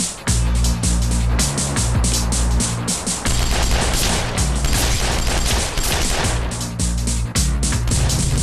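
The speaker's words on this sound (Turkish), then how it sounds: "Silah sesi." Loud, rapid bursts of gunfire crackle continuously, with dense overlapping shots and heavy booms, close and intense throughout.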